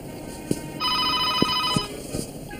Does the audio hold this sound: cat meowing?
no